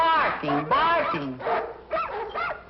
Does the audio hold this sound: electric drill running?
no